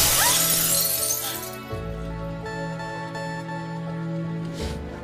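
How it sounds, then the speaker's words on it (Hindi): A car window's glass shatters in a loud, close burst at the start, with a bright crackling spray that fades within a second or two and gives way to sustained tonal music and a low hum. "पहली बार तेरी गाड़ी का कांच तोड़ा था।"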